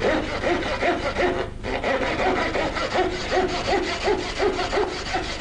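A hand saw cuts through plasterboard drywall with steady, rhythmic back-and-forth rasping strokes, close and fairly loud, each stroke rising and falling in a regular pattern with a brief pause midway.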